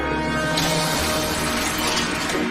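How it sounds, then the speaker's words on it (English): A front window of a detective agency shatters, and a burst of breaking glass fills the clip with sustained crunching and debris noise. "A disgruntled man smashes the front window of a detective agency."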